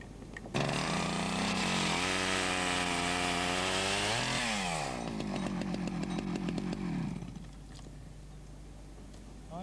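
A chainsaw cuts through a hedge during traditional hedgelaying, its engine revving in a loud sustained whine that shifts pitch as the blade bites, then dropping to a rough idle and fading out near the end.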